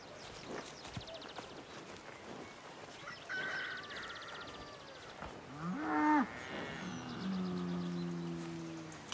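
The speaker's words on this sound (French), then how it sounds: "Les vaches me tiennent compagnie" Cattle on a farm give several long, deep moos at close range, one of them especially loud. Hoof clops and footsteps come and go between the calls.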